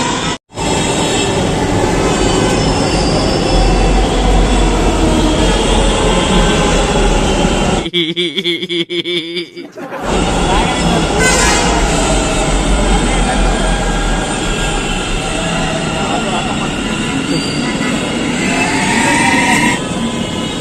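Loud, steady rumble of a metro train filling the platform, with a brief hush partway through before the roar returns.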